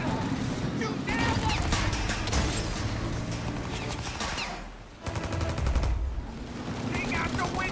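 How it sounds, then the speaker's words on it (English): Sustained gunfire at a turret in Mafia Definitive Edition, dense rapid bursts of shots rattling almost continuously with mechanical clatter and shouted voices over it, loud and close, with a brief dip before the firing resumes. "Shoot the turret, Tom!"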